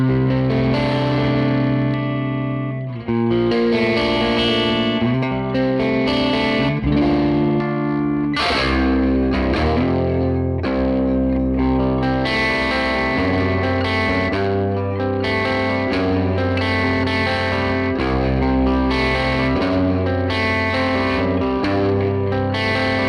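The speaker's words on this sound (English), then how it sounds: "this is that same Crunchin' Lightly Tweed Fender sound" An electric guitar in drop C tuning plays through a ToneX unit set to a crunchy, lightly driven Tweed Fender amp tone, strumming loud, sustained chords and riffs alone for the whole stretch with a short pause early on.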